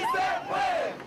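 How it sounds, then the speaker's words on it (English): A crowd at a May Day march chants in unison, voices rising and falling together in a short, loud burst. "A lot of people in the crowd are chanting, "We can do it, we can do it.""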